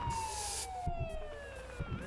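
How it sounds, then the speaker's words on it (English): An ambulance siren in the video game Ambulance Life: A Paramedic Simulator sweeps steadily downward in pitch, continuous and fairly loud, with a low engine rumble and occasional thumps underneath. "Siren on."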